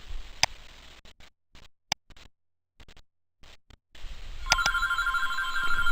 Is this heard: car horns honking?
no